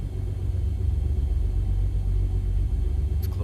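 Aircraft engine in X-Plane 11 gives a steady, loud low rumble that holds evenly throughout, with no talking.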